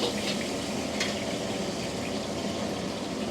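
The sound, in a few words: chili peppers frying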